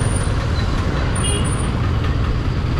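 Heavy road traffic with buses and trucks produces a dense, loud, continuous rumble up close, with a faint brief hiss of brakes partway through and no voices.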